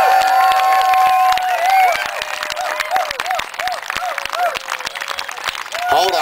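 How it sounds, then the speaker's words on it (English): A large crowd at an outdoor Hanford rally claps and cheers loudly and continuously, with shouts and whistles rising over the dense applause. "Can we give a super, super applause to Helen Caldicott?"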